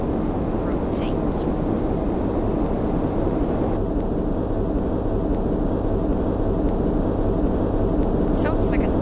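Jet engines of an L-1011 TriStar in a flight simulator game roar at takeoff power, with a steady broadband rumble and hiss throughout and a brief soft voice.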